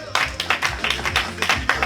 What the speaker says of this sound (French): On applaudit le fédéral.